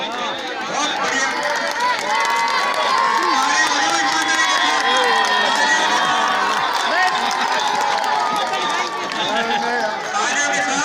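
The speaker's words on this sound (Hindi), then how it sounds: "तालियों के साथ" A rally crowd produces a sustained, loud wash of clapping and cheering with shouts and chatter mixed in, continuous for the whole stretch.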